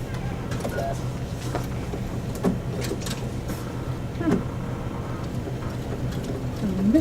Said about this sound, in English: And I'm just gonna sew straight across.